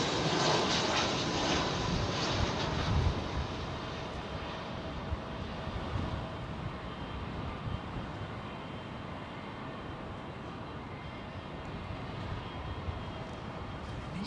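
Airliner landing at London Heathrow Airport, a broad, rushing jet roar heard from a distance, loudest at the start and easing to a steady wash of engine noise.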